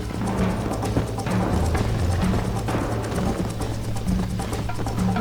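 Horse galloping in Red Dead Redemption, steady rapid clip-clop hoofbeats running continuously at close range over a dense layer of game ambience and music.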